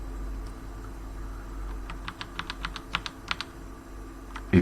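Several quick, crisp key presses on a computer keyboard tap out a shortcut in a short burst, heard close and alone after a brief quiet lead-in.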